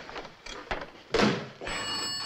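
A telephone bell rings in short bursts on an indoor set, with a brief louder clatter midway, then a steady ringing tone continuing to the end, fairly close and without speech.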